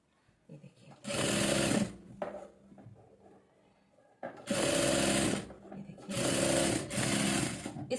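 A sewing machine stitches a salwar in three bursts of rapid, buzzy whirring, near and loud, separated by quiet pauses with faint handling noises and some speech in the gaps.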